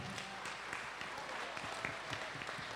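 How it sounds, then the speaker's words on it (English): Audience at a junior and senior high school spring concert applauding, a faint, steady spatter of many hands heard from a distance, with light murmur underneath. "let's applaud them"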